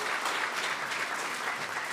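An audience applauds at a further education college graduation ceremony, a dense and even wash of clapping throughout, fairly soft and distant with no one talking over it.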